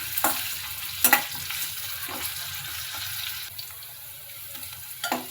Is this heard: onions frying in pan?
yes